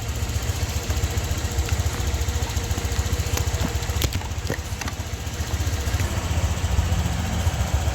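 A Honda Click scooter engine idles steadily after a throttle adjustment in a repair shop, with a close, even low chugging pulse throughout and some light clinks in the background.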